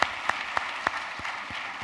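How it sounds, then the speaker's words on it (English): A handful of sharp, separate claps at an honors college induction and recognition ceremony, honoring Dr. Joyce Payne, spaced about a third of a second apart and thinning out over a faint room hum. "Can we please get one more round of applause for the one and only Dr."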